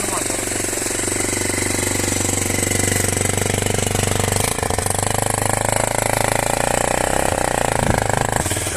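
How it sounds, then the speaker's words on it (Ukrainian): A Loncin Pruss motorcycle engine runs steadily after a cold winter start on full choke, a loud rapid putter that holds for nearly nine seconds while someone speaks faintly beneath it. "зараз я завів його на третьому, самому верхньому положенні підсоса"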